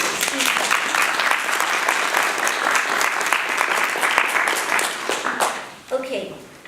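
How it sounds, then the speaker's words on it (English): Warm audience applause greets guests at a legislative update event, a full round of clapping that holds steady, then fades out in the final second as a voice begins to speak. "Let's give a warm applause to our esteemed guests."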